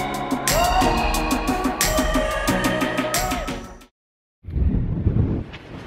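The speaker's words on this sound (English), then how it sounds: "it is extremely windy" Strong wind buffets the microphone outdoors beside an Audi RS7, a loud roaring rumble with tonal whistling overtones that drops out briefly before gusting back in.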